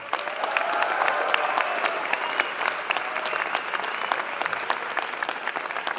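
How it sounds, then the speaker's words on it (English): Graduation crowd at NYU Stern Business School claps warmly, a dense, sustained round of applause with distinct individual claps standing out, close and fairly loud, gradually easing. "Let's clap it up for them."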